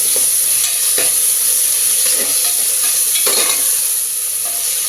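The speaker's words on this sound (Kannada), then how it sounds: "ಇವಾಗ ಶುಂಠಿ ಬೆಳ್ಳುಳ್ಳಿ ಪೇಸ್ಟ್ನ ಆ್ಯಡ್ ಮಾಡ್ತಾ ಇದ್ದೀನಿ. ಇದು ಹಸಿ ವಾಸನೆ ಹೋಗೋವರೆಗೂ ಚೆನ್ನಾಗಿ ಫ್ರೈ ಮಾಡಬೇಕು." Ginger garlic paste fries in hot oil with a loud, continuous close sizzle. Several sharp scrapes and taps of stirring punctuate it at irregular intervals, and no one speaks.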